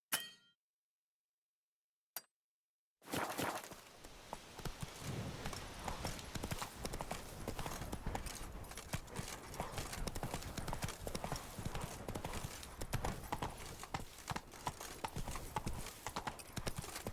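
Roach the horse trots in The Witcher 3, rhythmic clip-clop hoofbeats that start after a brief silent gap and continue steadily, with occasional metallic clinks of tack and a faint whinny.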